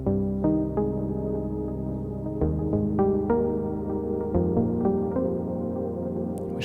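A pluck synth patch played on an Ableton Push 3 sounds a sequence of short, bright melodic notes, each struck sharply and decaying quickly, repeating at a relaxed, ambient pace over a soft sustained bed.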